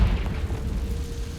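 In Hogwarts Legacy, a Confringo spell lands with a deep, rumbling boom that hits hard at the start and then fades into a low, muffled roll.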